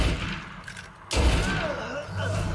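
A single sharp gunshot in the video game Assassin's Creed Unity cracks out midway, followed by a muffled rumbling tail, with game sounds and background noise around it.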